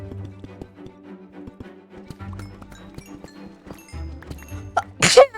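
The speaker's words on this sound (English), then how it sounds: "I just sneezed." A single sharp sneeze bursts out near the end, after a stretch of soft game clicks and taps from Minecraft play.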